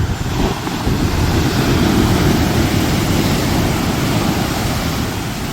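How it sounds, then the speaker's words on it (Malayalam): Rough sea surf pounds the shore at Shankumugham beach in Kerala, a loud, unbroken roar of breaking waves mixed with wind buffeting the microphone, with no voices. "കടൽ തിരുവന്ന് അടിച്ച് തകർക്കുന്നുണ്ട്."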